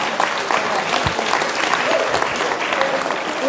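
Event audience at a nutrition talk gives a round of steady clapping, a dense, fairly loud crowd applause filling the whole stretch with faint voices mixed in.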